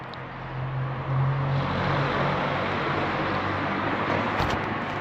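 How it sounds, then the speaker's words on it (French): A car drives along a quiet road in a small French village on a winter afternoon, its engine and tyre noise swelling and holding at a steady roar as it passes fairly close, with no talking. "C'est une voiture."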